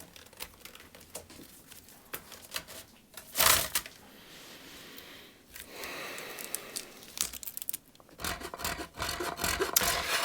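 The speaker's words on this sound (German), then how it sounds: "jetzt fange ich an, das alles so ein bisschen beizuarbeiten. Meistens mit Schnitzern, mit Zieglingen, das ist ja eins meiner Lieblingswerkzeuge" Hand tools, carving knives and scrapers, trim glued wood on a vintage mandolin during restoration, giving close, quiet rasping and scraping strokes in irregular bursts with brief pauses.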